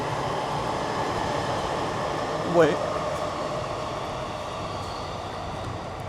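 A train rumbling overhead in Akihabara, Japan, heard from street level beneath the tracks as a continuous loud roar with a short squeal midway; a voice speaks briefly.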